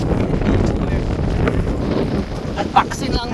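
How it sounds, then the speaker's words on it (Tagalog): Strong wind buffets the microphone in a continuous low roar, with voices faintly underneath and a brief higher sound near the end. "Grabe pa ng hangin."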